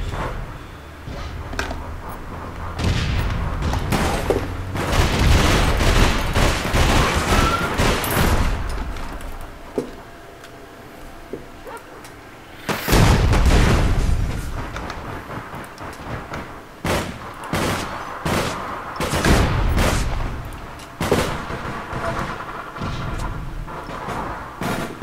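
Video game gunfire from the FPW weapon comes as loud, dense bursts of rapid shots and blasts, with a brief lull and then more heavy volleys in a hectic battle soundscape.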